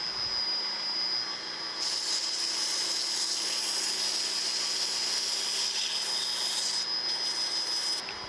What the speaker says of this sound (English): Now I'm just going to take some sandpaper, sand this thing out.